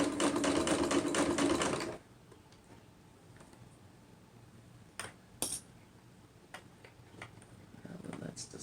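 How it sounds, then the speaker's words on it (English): A sewing machine stitches fabric for a pillow, running loud and fast for about two seconds before stopping, followed by quiet handling and a few sharp clicks. "That machine is made to make that stitch and pull that fabric through."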